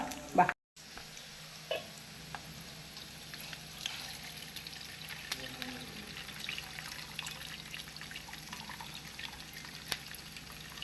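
Low, steady sizzling of chicken fat melting in a hot pan, a faint crackle running throughout with a brief gap near the start.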